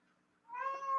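A house cat meows insistently outside a closed door, wanting into the room; a few seconds of quiet, then a loud, drawn-out wail that stays close and keeps going.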